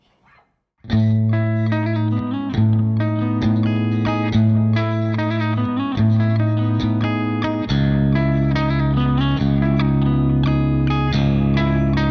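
A distorted electric guitar on the bridge pickup plays chords and riffs through a Fractal FM3 or Line 6 Helix LT amp modeler, loud and sustained, after a short quiet start.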